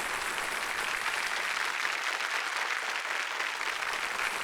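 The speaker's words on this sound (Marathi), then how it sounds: "टाळ्या वाजत राहायला पाहिजेत मी चेकवर सही करेपर्यंत" A studio audience on the KBC game show applauds after a jackpot win, a dense, sustained wash of clapping that holds steady from start to finish.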